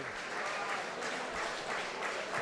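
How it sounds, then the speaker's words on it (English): Steady crowd applause fills an arena at a Boxfest II boxing event after a six-round bout, a dense, even wash of many hands clapping at moderate level throughout, with no voices on top. "a big round of applause for 6 rounds of back and forth action between these two fighters."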